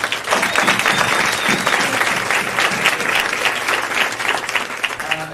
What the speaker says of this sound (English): huge round of applause for the University of San Francisco and Professor Vijay Mehrota for hosting